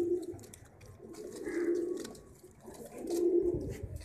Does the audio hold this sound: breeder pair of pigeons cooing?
yes